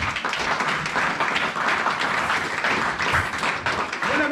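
A church congregation applauds together during a service, steady dense clapping that fills the room at a constant level, with a few voices mixed in beneath it.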